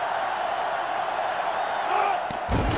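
Crowd noise in NCAA Football 2005 during a Florida vs. Florida State rivalry game, a steady roaring stadium wash with a sharp thump near the end.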